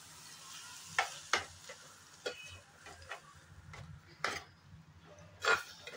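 Beaten eggs frying with cooked onion, tomato and spices for egg bhurji, a quiet sizzle under repeated spatula scrapes and clinks against the pan.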